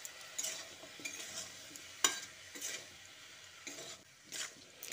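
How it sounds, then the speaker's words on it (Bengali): Spring onion curry with ground spices stirred in a pan, soft scraping strokes of a spatula with a faint sizzle underneath, close and fairly quiet. "গুঁড়ো মশলাগুলো দিয়ে এবার আমি সব কিছু একসঙ্গে ভালো করে মিশিয়ে নিচ্ছি।"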